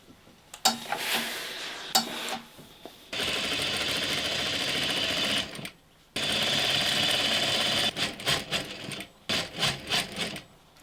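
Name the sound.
sewing machine stitching shirt and sleeve side seam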